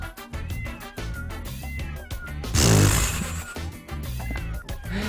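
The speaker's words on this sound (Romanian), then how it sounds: "Mau Kitten, Egyptian Mau" Egyptian Mau kitten meowing in a video game, with several short, upward-curving mews over busy game music, followed by a louder burst of noisy effects in the middle.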